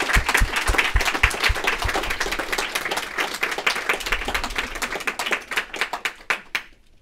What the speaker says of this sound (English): I think we should all give you another round of applause